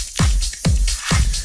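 An electro-style drum groove at 131 BPM, with three punchy kick hits roughly half a second apart, bright noisy percussion over them, and a loud, steady level throughout.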